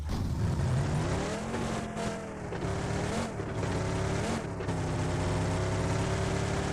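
Car driving in the PUBG video game, a loud, continuous engine drone that revs up and down with gear shifts, close and steady throughout without voices.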